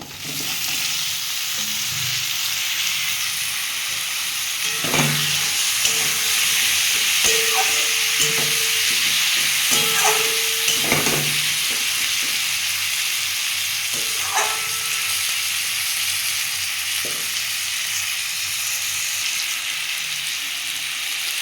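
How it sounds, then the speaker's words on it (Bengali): Raw and ripe tomatoes hit onion and garlic already fried in a pan for a sweet-sour-spicy chutney, giving a steady close sizzle with repeated stirring clinks and scrapes and no talking. "আমার পেঁয়াজ রসুনটা ভাজা হয়ে গেছে আমি এবার কাঁচা টমেটো আর পাকা টমেটোটা দিয়ে দেবো"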